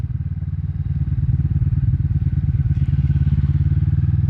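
A Kawasaki Vulcan S cruiser motorcycle rides a slippery, treacherous road, its engine a steady, loud low drone with a rapid throbbing pulse and occasional light clatter from the ride.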